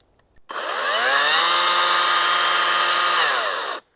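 GTM CS56/1800BL 56V cordless chainsaw spinning up and running: a loud, steady motor whine rising quickly, holding for about three seconds, then winding down, with no cutting and no talk.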